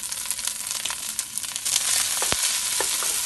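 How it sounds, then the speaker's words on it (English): Rice with shrimp crackles and sizzles in a hot pan, with a few scraping stirs punctuating the steady frying hiss. "and as I'm frying it"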